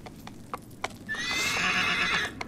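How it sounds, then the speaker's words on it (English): A horse in Shadow of the Colossus, a few hoof clops followed by a loud, drawn-out whinny, alone with no talk. "the horse doesn't want to go down there"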